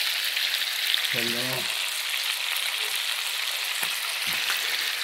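Sausages fry in a pan on a wood stove, a steady close sizzle running through the whole stretch, with a brief low voice and a couple of soft knocks from utensils.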